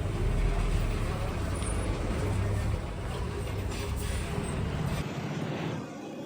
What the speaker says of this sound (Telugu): ఇప్పుడైతే బస్సు పోతుంది